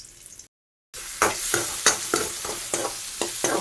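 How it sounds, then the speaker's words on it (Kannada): Spices frying in oil for a tempering, a steady close sizzle broken by a short gap, then repeated scraping stirs roughly every third of a second. "ಒಗ್ಗರಣೆಗೆ ದೀಯೆ ನಾನು ರೆಡಿ ಮಲ್ಪುಂಡು"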